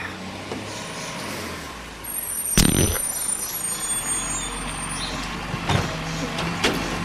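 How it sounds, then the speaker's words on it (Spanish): A car passes by outdoors, its road noise rising near the two-second mark and staying fairly steady, with a sharp bang or brake-like burst around the midpoint and a couple of fainter knocks later. "Sí, hay un carro."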